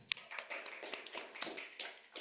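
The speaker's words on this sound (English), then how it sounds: "Can we all give him a round of applause?" Scattered clapping from a small crowd at a general meeting, a brief stretch of applause with light, uneven hand claps at moderate volume.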